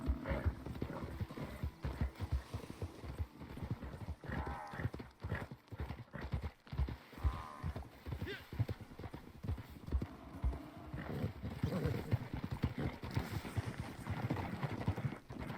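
Horse hooves clip-clop steadily and rapidly in the Western video game Red Dead, several horses herding buffalo, an even driving rhythm running throughout with a brief whinny and a voice talking over it.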